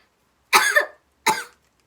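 Two sharp, close coughs, one slightly longer than the other, separated by a brief pause in an otherwise quiet setting.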